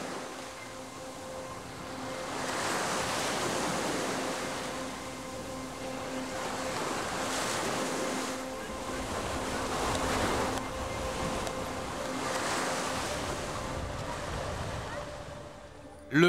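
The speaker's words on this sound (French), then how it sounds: "les courants marins peuvent être violents et le vent agite la surface de l'eau" Wind-driven sea waves off Ibiza and Formentera rolling and breaking in slow surges, with wind buffeting the microphone throughout.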